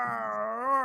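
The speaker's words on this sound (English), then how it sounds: "That was the dog, not me." A dog howls once in a sustained, tonal wail that rises slightly near the end, moderately close and heard alone.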